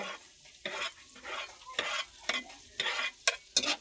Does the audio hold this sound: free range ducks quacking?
no